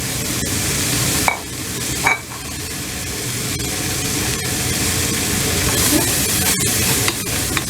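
Green onions, shallots and garlic sizzle steadily in a pot for a pot roast braise base, a close, even frying hiss with a few scraping stir clatters of a utensil along the bottom.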